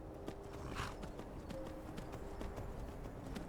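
Horse hooves clip-clop at a steady walking rhythm in the Skyrim video game, with even, moderately loud footfalls over a soft background.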